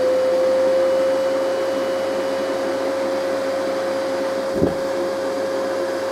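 The base of a Eureka J15 Pro Ultra robot vacuum auto-empties its dust with a loud, steady motorized whoosh and whine, close by, and a brief thump near the end.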